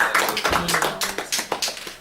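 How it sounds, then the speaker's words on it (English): A church congregation at a worship service claps together, a fast uneven burst of many hands, close and loud, with no talk. "Shall we give big clap unto the Lord?"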